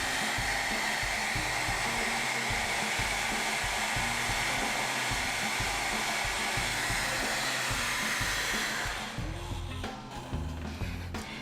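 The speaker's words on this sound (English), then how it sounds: "now I'm just gonna try and blow dry it just to see what monstrosity I've done to myself" A hair dryer blows loudly and steadily for about nine seconds while being used with a round brush on freshly cut bangs. It cuts off near the end, leaving faint handling noises.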